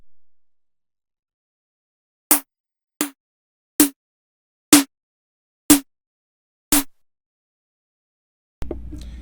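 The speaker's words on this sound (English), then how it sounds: "These snares were made through synthesis." Six sharp synthesized snare drum samples play one at a time with short pauses between, each a crisp noisy burst with a short tonal body.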